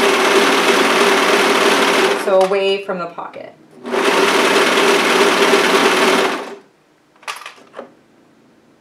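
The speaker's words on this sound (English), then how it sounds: "we're at the serger" A serger sews a skater dress in two long, steady whirring bursts with brief pauses and clicks between, while a person speaks briefly in the gap.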